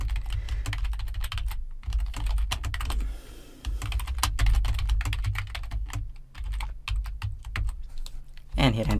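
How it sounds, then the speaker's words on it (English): Typing on a Mac computer keyboard while entering text in Google Docs: dense, rapid key clicks close to the mic, with a brief pause and a firmer keystroke at the end over a low hum. "let's come down here and start typing"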